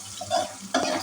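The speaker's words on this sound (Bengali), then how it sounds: "এই যে আমি পেঁয়াজ দিয়ে এখন লাড়তে আছি।" Onions fry in oil in a pot while being stirred, a close, loud sizzle with two scraping strokes of a spoon through the hot mixture.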